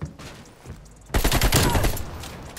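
In Call of Duty Cold War, an AK rifle fires a loud rapid burst after a quiet opening second, the shots hitting close and crisp in quick succession.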